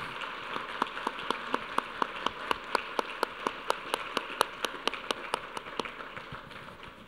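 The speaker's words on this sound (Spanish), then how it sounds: "Fuerte aplauso" An audience applauds at a university essay-contest award ceremony, steady rhythmic clapping in unison, moderately close and without talk, tapering slightly toward the end.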